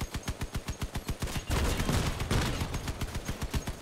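Rapid bursts of vehicle-mounted weapon fire from the Crossout combat game, steady rhythmic volleys that swell into a dense roaring barrage midway, then settle back into repeated shots, loud and close with no talk.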